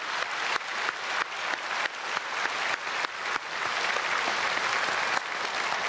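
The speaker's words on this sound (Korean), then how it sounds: "우리 크게 박수로 축복하겠습니다." A church congregation at a Sunday service claps in a burst of applause. It starts as loose, rhythmic clapping, then swells into a full, sustained round that carries to the end.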